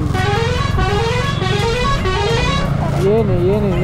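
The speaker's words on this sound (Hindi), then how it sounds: "गाड़ी का हॉर्न बढ़िया था भाई" A vehicle horn sounds loudly and steadily on a road trip through the hills toward Kodaikanal, with traffic rumbling underneath and people talking over it.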